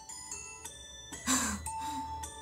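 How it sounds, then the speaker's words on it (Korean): A bell chime rings out in a Korean vocal room, a few bright tonal strikes with lingering ring, fairly close and alone without talk. "종소리도 댓글에 있었어요."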